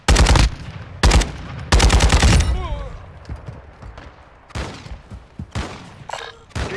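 Mid-caliber automatic gunfire in Call of Duty DMZ during a heavy chopper exfil, with several loud, close bursts of rapid shots separated by short pauses and a voice speaking between them.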